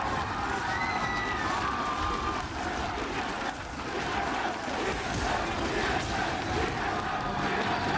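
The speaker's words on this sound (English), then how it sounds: "Listen to that crowd." Large arena crowd at a 2017 MSI Play-In esports match between Team SoloMid and GIGABYTE Marines roaring and cheering continuously, a dense wash of shouts and whoops with brief swells.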